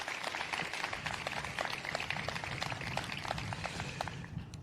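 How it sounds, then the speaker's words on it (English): An audience applauds at a speech with sustained, crackling clapping that stays thick and even throughout, like a full crowd in a hall. "Let's give them all a round of applause right now."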